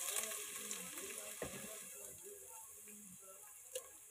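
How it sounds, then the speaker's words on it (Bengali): Chopped onions fry in hot oil, giving a soft, continuous sizzle with scattered faint pops and the occasional scrape of stirring, fairly quiet throughout. "ভেজে যে তেল গরম হয়ে যাচ্ছে পেঁয়াজ কুচিগুলো দিয়ে দিচ্ছি"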